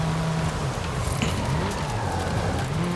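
Car racing a rally circuit in Forza Horizon 5 on sport tyres, a continuous droning engine whose pitch rises and falls with gear changes, loud and close throughout.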